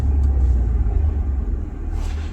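A new car creeping forward over a short distance, giving a low, steady engine and road rumble close by with no talking.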